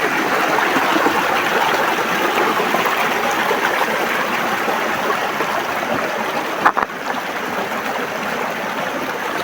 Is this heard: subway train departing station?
no